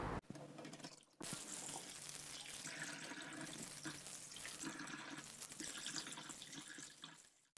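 Running tap water streams steadily over fish pieces in a sink while black marlin is cleaned for cooking, a continuous broad splashing hiss that breaks briefly near the start and then flows on unbroken.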